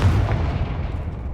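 A Confringo blasting spell going off in Hogwarts Legacy gives a loud, continuous rumbling boom with heavy low-end weight, sustained across the whole moment without any talk.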